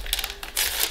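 Crinkly paper sachet of vanillin being torn open over dough, a short burst of crisp rustling and crumpling close by, loudest toward the end.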